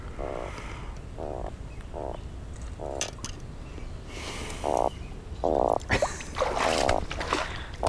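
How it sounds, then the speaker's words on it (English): A big drum fish croaks in a steady series of low, throbbing grunts repeating about once a second, fairly loud and close, with water splashing and handling noise around it. "Oh, he's croaking. Croak, croak, croak."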